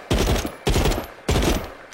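Three evenly spaced bursts of gunfire in a shooter video game, each a loud sharp onset followed by a short rattling tail, about half a second apart with no talking.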